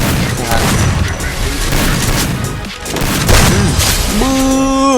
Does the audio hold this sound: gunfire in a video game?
yes